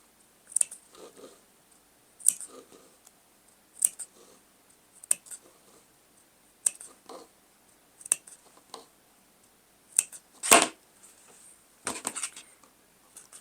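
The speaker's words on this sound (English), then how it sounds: "We're going to clip some of those corners." Sewing scissors snip fabric seam corners on a memory bear sewing project, a series of short, close crisp cuts at an uneven rhythm with brief pauses between them.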